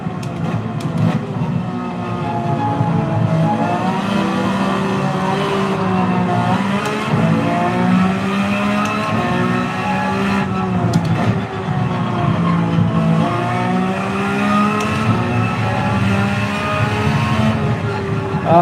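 Race cars scream around Mount Panorama in Gran Turismo 7, a loud sustained engine howl rising and falling through gear changes and throttle lifts for the whole stretch.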